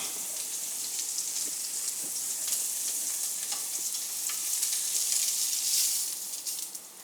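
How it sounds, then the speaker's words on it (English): Mushrooms sauté in a hot pan, giving a steady, close sizzle and crackle with faint stirring ticks, unbroken for the whole stretch with no voices. "We got the mushrooms sauteing right here."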